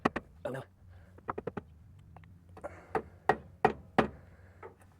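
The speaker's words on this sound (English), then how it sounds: "working my way around it, wedging the screwdriver in there" Screwdriver prying and wedging at a carrier bearing on a 2011 Dodge, giving a string of sharp metallic knocks and taps, some quick and clustered, others spaced apart, close up with a faint low hum behind.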